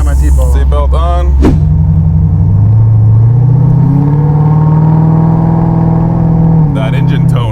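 A 1960 Corvette restomod engine runs with a deep rising drone as it accelerates, loud and close from inside the car, with people talking briefly at the start and end.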